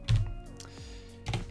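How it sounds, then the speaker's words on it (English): Typing on a computer keyboard while entering text in a WordPress editor: a few soft, close key clicks, with a louder cluster at the start and another near the end, and no voices. "We can start typing text here"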